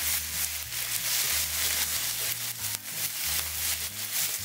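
A spatula scrapes and stirs a pan of goya champuru with egg and soy sauce, giving a steady close rubbing texture under background music.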